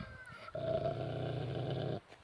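A dog growls low and steady in one sustained rumble of about a second and a half, close to the microphone, after a brief quiet moment.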